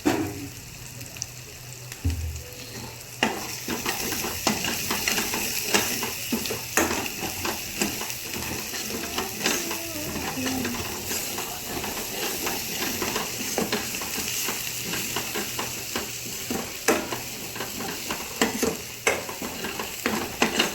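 Red chili powder and homemade spices cooking as a double masala in a pan on a home stove: a steady, close sizzle with frequent scraping stir strokes throughout, no voices.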